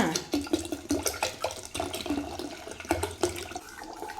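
A litre of water is poured while preparing horse gram papad dough, a splashing, gurgling stream with repeated surges, fairly close.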